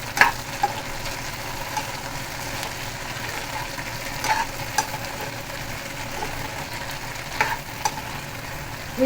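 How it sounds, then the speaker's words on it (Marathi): Stuffed brinjals (eggplant) frying in oil, a steady low sizzle with scattered soft pops and crackles throughout, alone with no talk. "हे वांगे चांगले तेलामध्ये फ्राय करायचे आहेत।"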